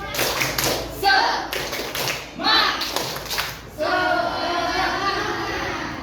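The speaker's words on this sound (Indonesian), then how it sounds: "Coba tepuk semangat." A school class of children does the rhythmic 'tepuk semangat' clapping chant in a classroom, with bursts of patterned hand claps broken by short pauses and children's voices mixed in, fairly close.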